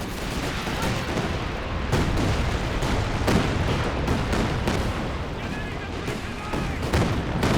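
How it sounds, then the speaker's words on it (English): Calliope and Katyusha rocket artillery pound the field in Company of Heroes 2, a dense, continuous barrage of loud overlapping impacts and booms with sharp repeated cracks across the whole stretch. "It's a Calliope Katyusha combo there"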